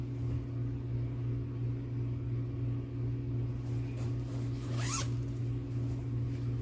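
A zipper on a bag is pulled open with one quick rasping zip near the end, close by over a steady low electrical hum.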